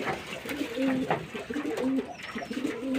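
Pigeons, mostly females, coo repeatedly in a house before their summer bath, a steady series of soft, low, rolling calls close by, with a faint thin whistle partway through.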